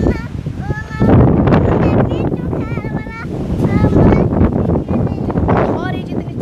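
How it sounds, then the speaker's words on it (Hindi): Strong wind blows outdoors, roaring and buffeting against the microphone in continuous gusts. People talk over the noise throughout. "अंधारी जितनी तेज चली खड़ी है"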